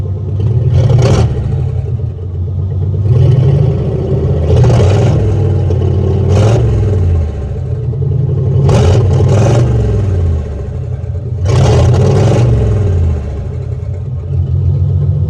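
A flathead V8 engine, running rich, idles with a deep rumble, punctuated by several sharp throttle blips that rise and fall, close and loud.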